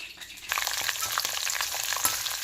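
Dried anchovies (nethili karuvadu) fry in hot oil with a steady, dense crackling sizzle that swells after the first half second and stays loud and close, with small spitting pops throughout.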